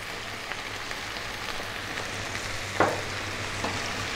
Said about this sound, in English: 2 more minutes stirring